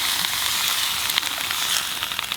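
Dry white wine hits mussels in a pot over a campfire, letting out a loud, close hiss and sizzle that holds steady with faint crackles throughout.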